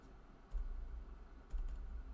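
Computer keyboard typing, two short bursts of soft key presses and button mashing, quiet and close with nothing else around.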